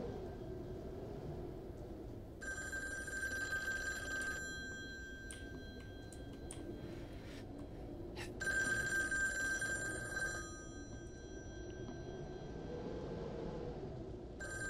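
A telephone rings in the horror video game Devotion, two long bursts of bright electronic ringing separated by a pause, heard over a low droning ambient background.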